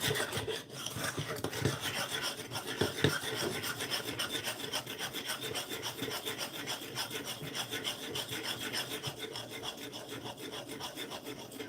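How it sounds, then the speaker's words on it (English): A mixture is stirred by hand in a bowl for cheesecake, pumpkin or chocolate pie filling, a loud, steady scraping and rubbing that churns on continuously with quick repeated strokes. "I'm just going to stir it up."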